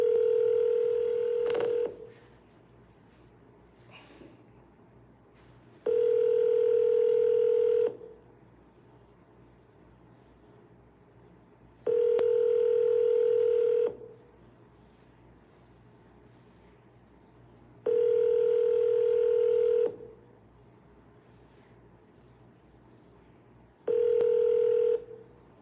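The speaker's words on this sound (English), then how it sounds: "Somebody answer the phone." An outgoing phone call rings back at regular intervals, about two-second tones separated by roughly four seconds of quiet line noise, repeating steadily while waiting for an answer.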